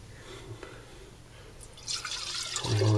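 Echinacea tincture being poured back into a container, starting with faint drips and then building into a close, bright stream of liquid over the last second.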